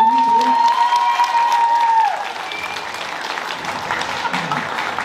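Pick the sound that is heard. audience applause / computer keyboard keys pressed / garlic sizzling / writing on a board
audience applause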